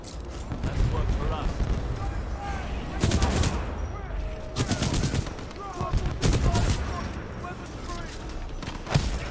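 Bursts of rapid Spitfire machine gun fire in Titanfall 2, several loud sustained volleys spread across the clip, mixed with game effects and someone talking excitedly over the shooting.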